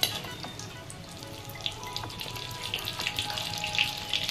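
Cumin seeds and urad dal frying in ghee for ghee-roasted idli give a fine, crackling sizzle close by, growing busier with small bright pops toward the end.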